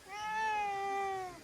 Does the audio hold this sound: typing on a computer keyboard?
no